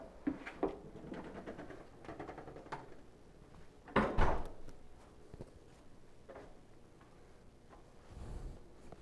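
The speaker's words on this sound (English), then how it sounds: "All right, I'll close the door." A door closes in a classroom, a thump with a short rattle in the middle of a series of softer bumps and footsteps, fairly close, with no talking.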